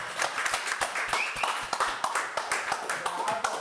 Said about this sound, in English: Can we have a round of applause for Ed Mead?